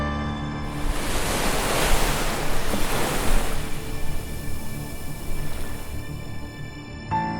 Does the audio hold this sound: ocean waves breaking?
yes